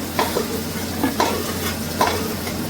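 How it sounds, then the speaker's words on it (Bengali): Potatoes lightly frying in oil hiss steadily up close, with a spatula scraping and stirring the pan about once a second. "আলুগুলো হালকা ভাজা হয়ে গেছে,"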